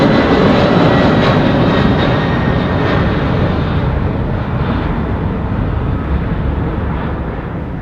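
A Boeing 767 at Heathrow Airport roars steadily with loud, continuous broadband engine noise that fades slightly toward the end, with no voices.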